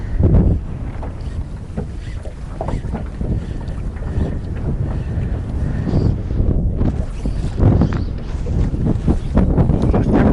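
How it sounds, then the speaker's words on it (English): Strong wind buffets the microphone outdoors in rural farm country, a loud, steady roar with gusty swells and low rumble throughout, no voices. "Farm country, the wind seems to blow more often than not. It's no doubt about that today."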